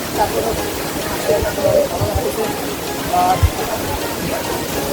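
Na-Kata waterfall in Bilaichhari, Rangamati, pours steadily during rain, a dense, even rushing hiss throughout, with a person talking faintly over it.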